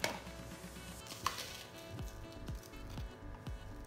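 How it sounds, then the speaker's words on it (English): Frozen butter and sugar being mixed for cookie dough in a bowl, a quiet close series of irregular dull thuds and scraping squishes, roughly two per second. "I'm mixing together my butter and sugar"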